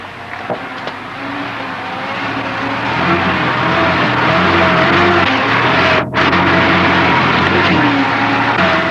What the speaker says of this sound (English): allow the vehicle to creep over the rocks under the combined force of engine and